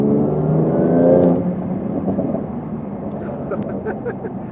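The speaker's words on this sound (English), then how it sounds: "You could hear the exhaust too as well." Porsche 992 Turbo S accelerating hard on a road at night, its engine and exhaust swelling in a loud, steady rising roar that peaks and then eases into a lower cruising drone.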